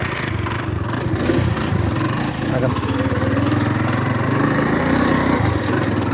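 A motorcycle engine idles steadily with a low, continuous rumble, while voices talk faintly in the background.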